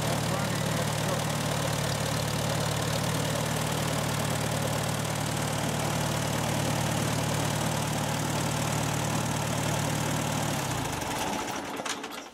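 1945 Farmall tractor engine idling on choke, a steady close loping chug that runs without pause and cuts off near the end.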